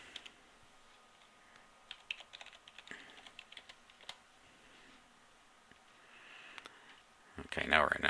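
Computer keyboard typing as an admin username and password are entered to log in to a forum, soft scattered key clicks at moderate distance with a louder burst of rapid keystrokes near the end, no talking.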